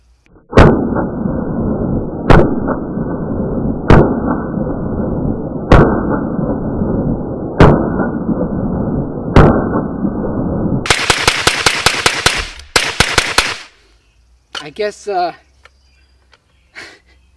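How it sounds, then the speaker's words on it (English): A PSR22 rifle fires several spaced single shots, then a rapid burst as the magazine is dumped. The cracks are loud and close, with a few fainter sounds after the burst. "I'm feeling a little bit like doing a mag dump"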